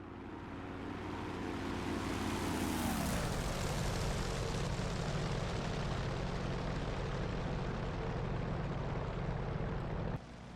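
An F4U-1D Corsair propeller fighter in a flight game drones loud and steady, its engine pitch sliding down early on before holding a constant roar until a sudden cut near the end.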